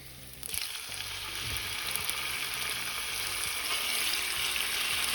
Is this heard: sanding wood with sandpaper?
no